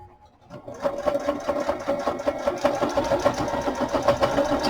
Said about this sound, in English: So I'm going to actually stitch on the front and just do a thin little